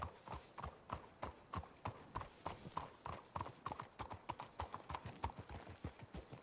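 Horses' hooves clip-clop at a steady trotting rhythm on a dirt trail in the Red Dead Redemption 2 video game, close and continuous with no talking.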